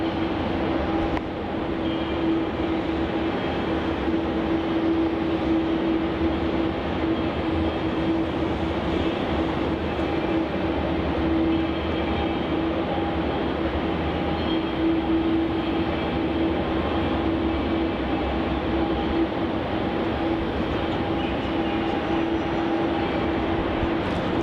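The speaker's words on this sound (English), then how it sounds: "Coming in now, we have Qantas Flight QF674, another 737-800 landing on runway 34" A Qantas Boeing 737-800 on its flight in from Adelaide lands on runway 34 at Melbourne Airport, making a steady, unbroken jet roar that holds at an even level throughout, with no talking.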